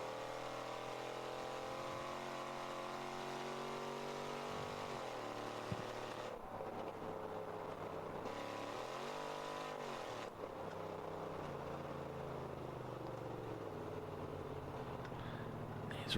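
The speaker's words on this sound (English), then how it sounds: "The car sounds like such a beast." A race car engine roars steadily through a ChampCar 14-hour endurance race at Sebring, close and loud, its pitch sweeping up and down as the driver revs and shifts, with no one talking over it.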